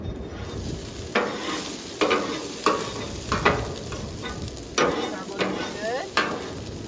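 Falafel frying on a Blackstone flat-top griddle: a continuous bright sizzle punctuated by several sharp metal spatula scrapes and taps at irregular intervals, close by.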